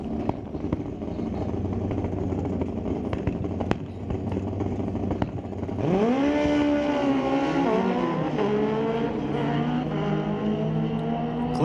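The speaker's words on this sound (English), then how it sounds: "Shannon Frank in the left lane. 1000cc turbocharged Ski-Doo. Lined up next to Clayton Potter. 2012 Kawasaki in the right lane." At an NHRA Canadian Sportsnationals drag race, a 1000cc turbocharged Ski-Doo snowmobile and a 2012 Kawasaki idle loudly before a sudden launch, engines screaming upward in pitch and holding a strong rising whine.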